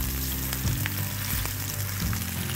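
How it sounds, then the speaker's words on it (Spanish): A BBQ burger patty fries in a hot pan, giving a steady close sizzle with crackling spatters and a few stirring or shifting sounds, no voices. "es momento de poder realizar esta fritura y lo hacemos de esta manera"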